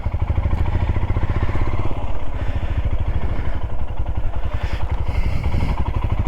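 Royal Enfield Himalayan motorcycle, fresh from a valve adjustment, running loud and close with a steady, thumping mid-pitched engine note and mechanical clatter that holds without a break.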